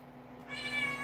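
A house cat gives a single drawn-out meow that rises and holds over a low steady background hum, fairly close and alone.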